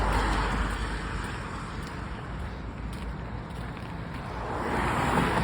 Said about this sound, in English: wait for these cars to pass.